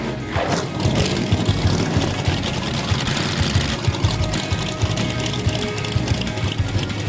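A gasser hot rod engine runs at a rough, lumpy idle with rapid rhythmic pulses under a dense mechanical clatter, close and fairly loud throughout.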